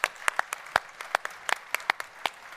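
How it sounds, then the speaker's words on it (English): A small group at a start-up presentation claps in sparse, distinct hand claps, irregular and close, with quiet room tone between the strikes. "Big round of applause."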